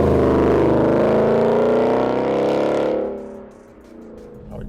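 A 2018-2023 Ford Mustang GT with a Roush axle-back exhaust and no active exhaust, a loud close deep rumbling V8 rev that holds for a few seconds, then drops away to a lower idle burble.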